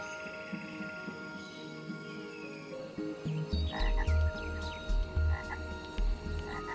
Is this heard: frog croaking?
yes